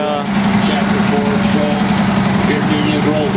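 A big IH road tractor's heavy diesel engine idles steadily with a low rumbling drone at the Red Power Round Up 2016, while people talk over it throughout.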